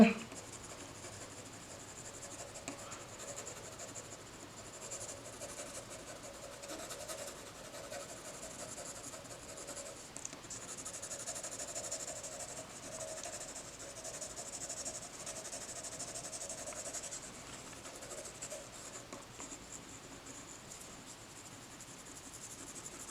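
A pencil shades a sphere on paper in a drawing lesson, giving a faint, steady scratching of soft strokes that continues without pause throughout.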